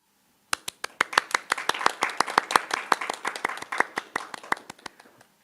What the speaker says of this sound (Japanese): 子育てエンジニアーズさんにもう一度大きな拍手をお願いいたします